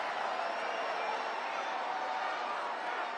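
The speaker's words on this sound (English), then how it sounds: "One of the biggest applause lines I've ever seen in a VP acceptance speech" Large crowd applauding and cheering during a vice-presidential acceptance speech, a dense, steady roar of clapping that holds evenly throughout with no break.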